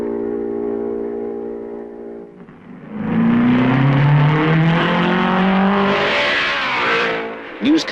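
Race cars from the 1955 Belgian Grand Prix drone past, a steady engine hum giving way to a louder nearby pass with rising and falling engine pitch, followed by another car approaching near the end.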